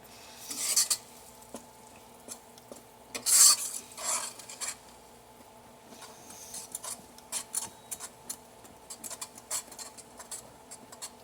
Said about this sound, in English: And you just stir until this is like all melty.